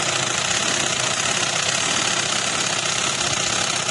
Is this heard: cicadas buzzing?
no